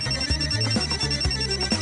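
A mobile phone ringtone sounds during a comedy show, a repeating electronic melody of short tonal notes in a steady rhythm, loud and close, with no talk over it.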